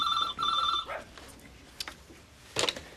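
A practice telephone in a veterinary office gives two short electronic rings close by, then a pause broken by soft handling clicks and a brief clatter.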